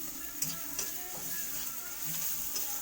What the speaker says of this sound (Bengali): গরমের দিনে খুব কম তেল দিয়ে রান্না করছি